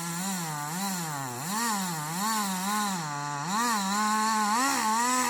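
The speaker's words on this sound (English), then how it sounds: "he used a chainsaw to make precise cuts" A chainsaw cuts into a large oak tree, its loud, close engine whine wavering up and down in pitch as the blade bites, running continuously throughout.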